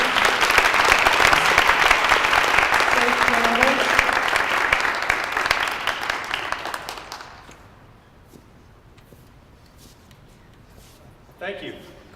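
A crowd at a gubernatorial candidate forum applauds loudly and steadily, and the clapping tapers off and dies away about two thirds through, leaving near quiet before a voice briefly starts speaking.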